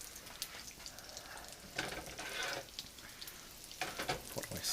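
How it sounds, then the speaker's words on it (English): Breadcrumb-coated sous vide pork chops crisp in a pan on the stove, a soft, uneven sizzle that swells in a few louder bursts of spattering, fairly quiet and close. "We're just trying to get these breadcrumbs to crisp up"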